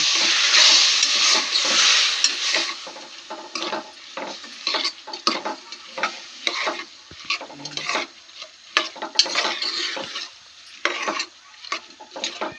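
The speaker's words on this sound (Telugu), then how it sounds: "పప్పు వేసి ఒక 2 నిమిషాలు నూనెలో మగ్గించండి." Moong dal frying in oil while being stirred: a bright sizzle with repeated scraping and clinking strokes of a spoon against the pan, close and fairly loud, with no talking.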